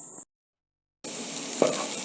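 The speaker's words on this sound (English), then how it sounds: "So we are now frying the onions." Onions frying in a pan previously used for boiling, giving a steady loud sizzle that starts abruptly after a brief silence, with a soft clink of stirring partway through.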